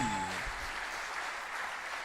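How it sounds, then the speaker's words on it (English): Steady applause from a crowd, dense and sustained, continuing evenly from start to finish. "Another round of applause, please."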